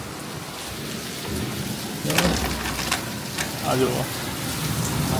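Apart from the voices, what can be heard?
rain falling during the Bhadrava monsoon month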